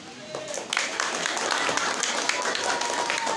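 A church congregation at an anniversary service claps together, a dense patter of hands with crowd murmur and a voice talking over it.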